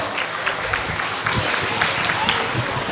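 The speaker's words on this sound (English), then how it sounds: "Ladies and gentlemen, please give them a big round of applause." An audience applauds students on stage, clapping mixed with a murmur of voices and scattered louder claps, fairly close and sustained.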